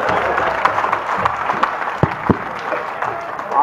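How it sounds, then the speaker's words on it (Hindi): An audience claps in a steady, dense patter of applause, moderately loud, with a few sharper claps standing out and a murmur of Hindi voices beneath. "तालियां बजाओ।"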